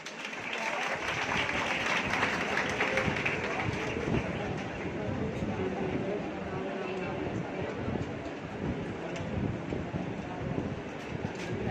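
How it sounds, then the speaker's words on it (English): Audience at a university college annual function claps steadily for guests being welcomed with badges, a dense continuous patter with a low windy rumble and background voices underneath. "Clapping please."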